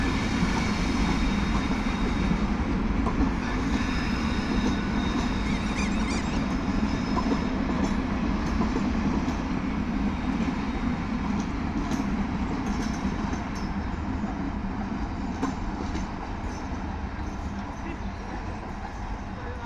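A train runs toward Joydebpur railway station in Bangladesh with a loud, steady rumble and rattle that barely changes throughout, and a faint murmur of voices underneath.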